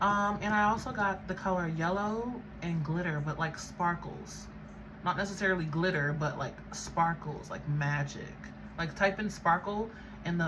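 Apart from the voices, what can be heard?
None of the usual background noises is heard.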